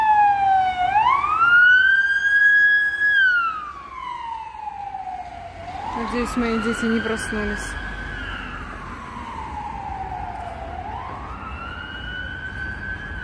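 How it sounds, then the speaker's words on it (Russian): An ambulance siren wails through city streets in a rising and falling sweep, loud and near at first, then continuing more distantly with traffic rumble, while someone talks over it. "Это скорая."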